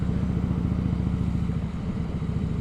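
Harley-Davidson Fat Boy fitted with a Vance & Hines Pro pipe and its quiet baffle silencer idles with an even, muffled low thump, close and steady with no revving.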